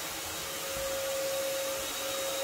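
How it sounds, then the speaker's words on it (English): A vacuum cleaner runs steadily as it sucks yellow jackets off a window near a light in an infested home, a loud, continuous whine with a sharp steady tone and no talking. "I was able just to vacuum them off of it."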